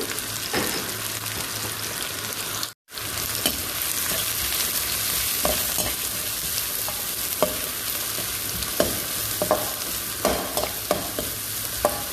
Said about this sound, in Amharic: ዘይት እንጨምራለን። ሽንኩርት እንጨምራለን።